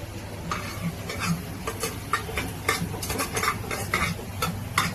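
Mutton tossed with a little mutton masala in a pan on the stove gives a steady stirring scrape and faint sizzling frying, with soft clinks of a spoon against the pan throughout.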